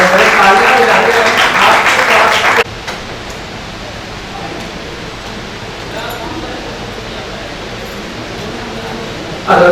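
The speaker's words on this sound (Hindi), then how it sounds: "एक बार तालियां बजाते इनका भी स्वागत है।" Audience applause welcoming a guest onto the stage at a poetry award gathering in Raipur: a loud burst of clapping for the first few seconds, then it cuts to a quiet hall hum before a fresh swell at the end.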